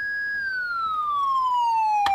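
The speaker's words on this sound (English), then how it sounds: "We got a Dodge Demon. Very cool sirens." Police siren on a Dodge Demon in Farming Simulator 19, a loud electronic wail gliding slowly downward in pitch, heard alone with a short click near the end.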